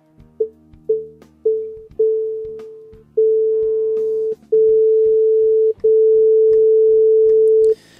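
Nord Stage synthesizer playing single tones as its decay setting is raised, the first notes short and clipped, later ones held longer and steady, a clean, loud electronic tone in a sequence of about eight notes.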